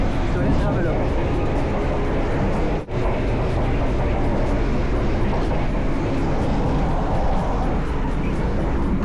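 A moving Indonesian passenger train heard from inside a carriage, with a steady, loud rumble and rolling hum that runs the whole time, broken only by one brief dropout.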